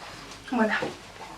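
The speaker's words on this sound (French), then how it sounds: "si vous entendez grogner dans la vidéo, c'est normal, c'est un carlin" A pug gives a brief, close, high-pitched whimpering whine lasting under a second, with a faint background hum.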